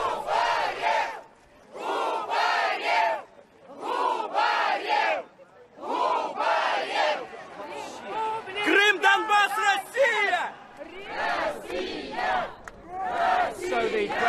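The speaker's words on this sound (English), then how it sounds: "The crowd is shouting Donbass, Donbass, the name of this region." A May Day rally crowd in Lenin Square, Donetsk, chants the region's name Donbass and Russia in loud rhythmic bursts separated by short pauses, many voices shouting together in unison.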